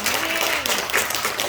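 Congregation clapping during a Wednesday church worship service, a short dense burst of applause with a voice speaking over it.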